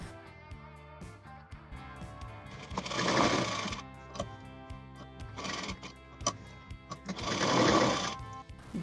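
A sewing machine stitches a round bolster pillow cover in two loud, rapid bursts of whirring needle strokes, separated by quieter pauses with soft handling clicks and no talk.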